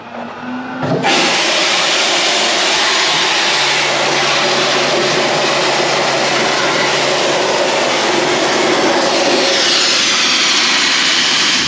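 A dry ice blaster fires pellets at an older classic car in a shop, starting suddenly after a moment of quiet and then holding a loud, steady roaring hiss of compressed air.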